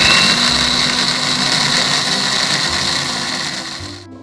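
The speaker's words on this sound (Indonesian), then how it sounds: "Sekarang bumbu-bumbunya kita blender sampai halus." An electric blender whirs loudly and steadily while grinding garlic, shallot and spice paste with water for Indonesian yellow pickles of cucumber and carrot, a continuous motor drone that slows slightly before cutting off.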